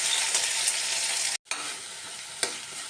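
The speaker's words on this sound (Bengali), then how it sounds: "বেটে রাখা মশলাটা দিয়ে ভালো করে কষিয়ে নেব" Ground tomato and coriander spice paste sizzles and is stirred in a wok over a tempering of dried red chillies and bay leaves, a steady close hiss with a brief cut of silence midway and a sharp scrape near the end.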